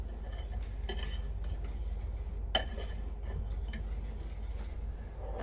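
A dry mix of flour and semolina is stirred in a bowl, with soft scraping and a few light clinks of a utensil against the dish, quiet and close, one sharper knock midway.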